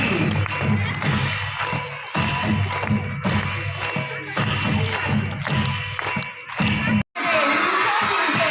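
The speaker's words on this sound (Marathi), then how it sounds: "आता वाट कसली बघताय, वाजवा रे टाळी" Crowd of Montessori schoolchildren at a school sports festival clapping and cheering in steady rhythmic bursts, with shouts and dull thumps mixed in, loud and close, then a brief cut before the noisy crowd resumes.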